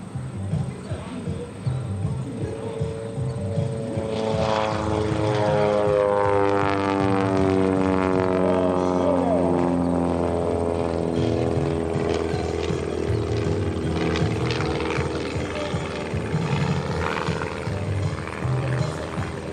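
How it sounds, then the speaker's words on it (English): A clipped-wing airshow plane of about 100 horsepower flies overhead at the Westmoreland County Airshow, its propeller engine droning and sliding down in pitch as it passes, then rising again, with a voice talking over it. "I believe this airplane is only pushing about 100 horsepower."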